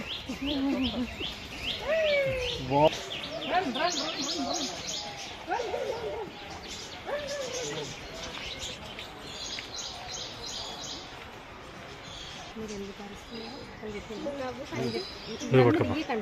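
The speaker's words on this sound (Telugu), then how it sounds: "ప్యారెట్ అంట, ప్యారెట్ అంట పట్టుకో." Parrots and other birds at an eco park in Hyderabad give repeated chirps and squawks, moderately close and fairly steady, while people chatter nearby.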